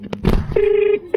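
A phone call placed to a friend rings out as a steady electronic tone after brief keypad and handling noises, cut off and starting again near the end.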